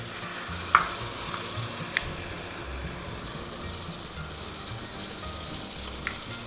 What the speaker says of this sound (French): c'est le moment où je vais faire flamber le rhum